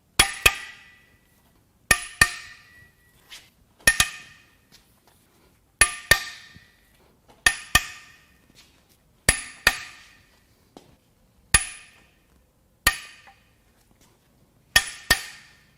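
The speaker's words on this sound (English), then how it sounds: "Now it's time to crack the head bolts loose." Sharp metallic cracks of a breaker bar or hammer loosening cylinder head bolts on a Jaguar 3.0 supercharged AJ V6 engine during teardown, about ten loud, evenly spaced impacts, each with a ringing tail.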